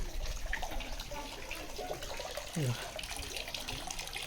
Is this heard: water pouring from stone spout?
yes